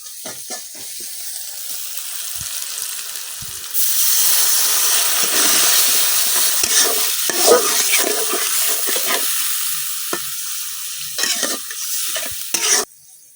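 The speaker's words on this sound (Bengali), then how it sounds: "এখন পেঁয়াজের মধ্যে দিয়ে দেব একটু পানি।" Water poured into a pan of onions frying in oil in a village kitchen, setting off a loud, steady sizzle and bubbling hiss that surges partway through and runs continuously, with occasional stirring scrapes.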